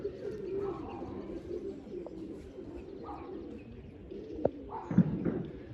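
Low pigeon cooing recurring over a soft rumbling background, with a couple of sharp taps near the end.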